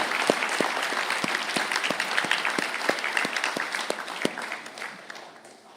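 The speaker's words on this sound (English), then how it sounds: "I ask the graduates of the Physics and Instrumentation programs to stand for a round of applause" Graduates of the physics and instrumentation programs are applauded at an ATU Galway conferring ceremony, a dense steady crowd clapping with a few sharp individual claps standing out, tapering off at the end.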